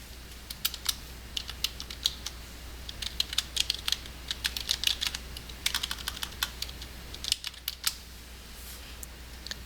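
Search terms typed on a computer keyboard: a rapid, uneven patter of light plastic key clicks in short bursts with brief pauses, close and fairly quiet over a low steady hum.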